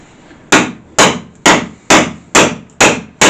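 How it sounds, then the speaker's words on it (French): Hammer blows striking the bonded panel of a Renault Mégane mk1 cabriolet being cut apart, seven sharp metallic whacks at a steady rhythm of about two per second, loud and close with no talk. "Donc avec un bon coupe-top et un marteau,"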